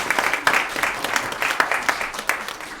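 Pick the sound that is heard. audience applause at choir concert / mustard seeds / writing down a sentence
audience applause at choir concert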